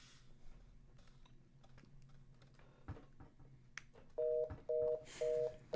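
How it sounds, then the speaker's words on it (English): Telephone dial tone on a sports call-in radio show, starting faintly and then sounding as steady repeated beeps in three or four even bursts near the end, with brief keypress-like clicks before it. "Dial tone."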